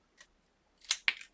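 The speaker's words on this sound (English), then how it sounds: "I'm just going to snip this" A few quick snips of scissors cutting through a sheet of acetate during a craft project, close and crisp, with a short cut followed by two sharper ones after a pause.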